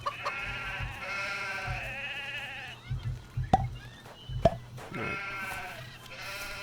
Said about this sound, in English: finding a smaller group of sheep here